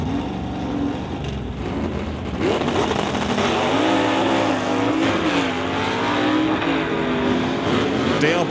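Drag race cars, a Ford and a Comet in the Super Shifters class at an NHRA Summit ET Series race, roar loudly off the line, engines rising in pitch as they accelerate, with track announcer commentary over the noise.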